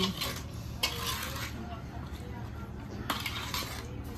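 Chicken pickle being mixed in a dish, with irregular clinks and scrapes of a utensil against the bowl, close and moderately loud, and a voice speaking over part of it.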